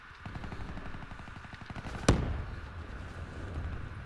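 Rapid automatic gunfire in Black Ops 3, a steady stream of close, sharp shots running for about two seconds. A single loud crack then stands out, and more distant firing and game noise continue afterward.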